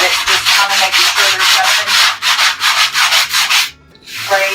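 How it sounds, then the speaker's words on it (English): Steady back-and-forth sanding, a loud rhythmic rasp of a regular sanding pad rubbing a faux granite paint finish, about a dozen strokes, then a brief pause before it resumes. "I'm just using a regular sanding pad for that."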